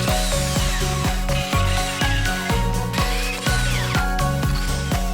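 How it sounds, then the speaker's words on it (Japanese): A power drill bores holes through a wooden board that will hold garden arch supports, loud and close, with a dense, continuous whirring grind and steady rhythmic pulsing and no voices. "穴を開けた"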